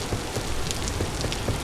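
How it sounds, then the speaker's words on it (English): Steady rain falls in the video game Vintage Story, a dense, even hiss of drops on surfaces with faint patters, continuous and alone without any voices. "It's been raining for days."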